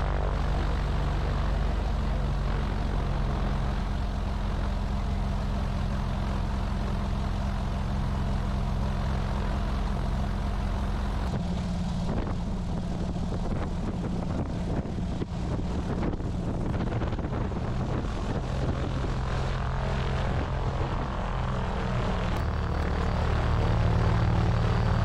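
Propeller airplane climbing out of Portland, Maine, heard from inside the cabin: a steady, loud engine drone with rushing wind that shifts partway through, continuous and without speech.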